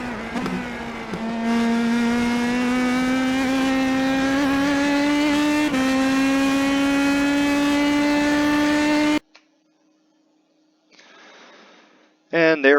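An Indy Pro 2000 race car laps Road America in the iRacing simulator. Its engine drones loud and high with a rising pitch and a couple of gear shifts, then cuts off abruptly to near silence and a few faint noises.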